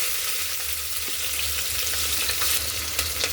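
Chopped onion sizzles in hot oil along with cumin and whole spices while soybean pulao is cooked. Steady, close frying hiss with faint stirring, no talk.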